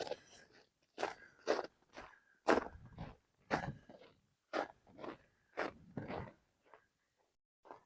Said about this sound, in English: because this is fairly crunchy and not icy.